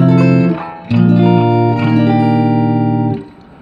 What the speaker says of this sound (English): I'm playing through an older Music Man amp, which is nice.